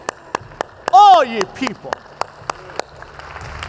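A church congregation claps along in a steady rhythm of sharp, evenly spaced claps under a voice preaching loudly.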